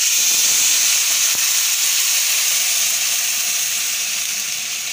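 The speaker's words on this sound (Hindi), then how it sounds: "इलायची ऐड करने के बाद अब हम इसमें दूध डाल देंगे।" Milk being poured into a hot pan of fried vermicelli for a milky seviyan dessert, giving a steady loud steaming hiss that fades slightly over five seconds, with no talking.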